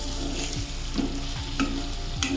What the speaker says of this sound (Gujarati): હવે આપણે મિક્સ કરી લઈએ.